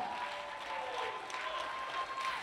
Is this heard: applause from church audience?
yes